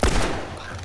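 Gunfire in The Last of Us Remastered during a zombie swarm: a loud, close burst of shots at the very start that quickly fades into a rumbling tail.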